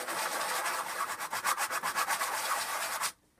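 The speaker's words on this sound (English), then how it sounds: "you're just going to sand it until it is all flat" A bottle cap is rubbed back and forth on 60 grit sandpaper, giving a run of close, rhythmic rasping strokes that stop abruptly at the end.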